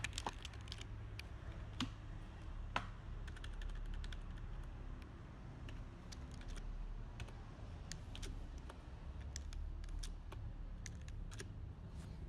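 Keys click on a computer keyboard while a shell script is edited in vim, with faint, irregular taps and occasional sharper clicks over a low, steady background hum.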